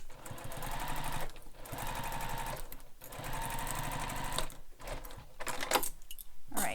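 A sewing machine runs a long basting stitch down the side of a crossbody bag, whirring continuously and close with only brief pauses between runs.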